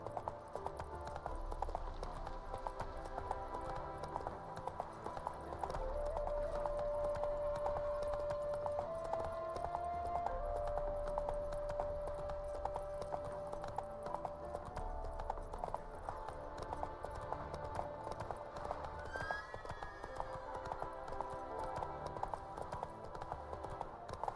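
Rhythmic hoofbeats of a horse galloping through The Witcher 3 video game, steady and continuous over game music with a sustained tone, no talk.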